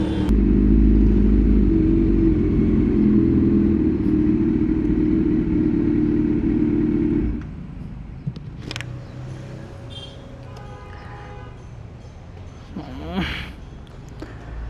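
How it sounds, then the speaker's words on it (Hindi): Kawasaki Z900 motorcycle engine held at a raised idle around 2000 RPM, a steady loud drone for about seven seconds that then drops to a quieter, lower hum with faint clicks and knocks nearby. "इसका RPM का कुछ इशू हो रहा है ये 2000 पे है जब मैं रोक रहा हूँ तो 2000 पे ही अटका हुआ है"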